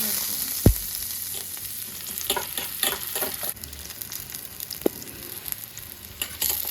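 Garlic sizzles steadily in a hot pan in a home kitchen, a continuous close frying hiss with occasional stirring scrapes and a couple of sharp clinks of a utensil against the pan.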